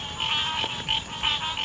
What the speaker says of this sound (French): On était proche d'un petit marécage, donc beaucoup de grenouilles.